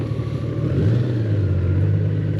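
Warmed-up motorcycle engine running close by on a road trip in Germany, a loud steady idle that swells into a brief rev and settles back to a rough, continuous rumble.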